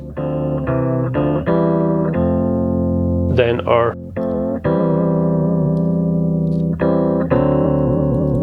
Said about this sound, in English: So this is more phaser type effects with wet and dry.